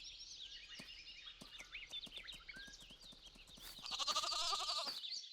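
A lamb and goats bleat in Farming Simulator 22 over steady hoof-like clatter and busy farmyard noise. A louder, sustained bleat rises near the end.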